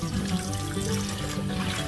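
Hot water runs steadily from a kitchen tap while a cast iron pan is cleaned, a continuous close hiss and splash without pause.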